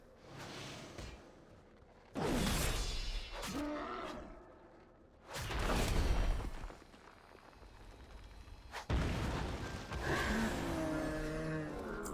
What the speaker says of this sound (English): Well, explosion was loud,